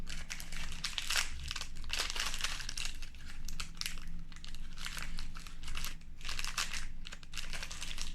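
Crinkly plastic wafer packet wrapper being worked open by hand, a close, continuous crackling and rustling with bursts of louder crumpling throughout.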